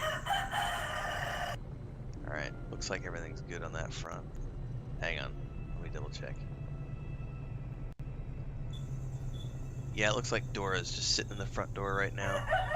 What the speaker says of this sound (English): And there's the chickens. You guys can probably hear that on the stream right now